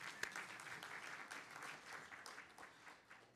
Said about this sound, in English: We can clap for them too, yeah?